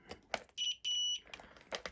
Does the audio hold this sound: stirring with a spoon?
no